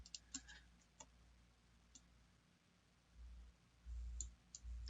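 Computer mouse clicks, a few sharp faint ticks scattered through a quiet room during work on survey imagery, with a low hum and a couple of soft thumps in the background.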